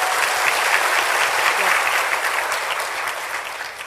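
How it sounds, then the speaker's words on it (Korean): Audience at a youth mental health symposium applauding: a loud, continuous roar of many hands clapping that stays steady and tapers slightly near the end. "정말 이때까지 피켓 릴레이를 해온 수많은 친구들에게 한번 박수"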